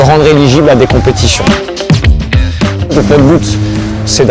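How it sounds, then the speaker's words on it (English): A T3 Can-Am Maverick XRS rally vehicle, built for Dakar 2022 competition, drives hard with a loud, close, revving engine and bursts of tire squeal, all under continuous talking. "it's finally time to unleash the T3 Can-Am Maverick XRS"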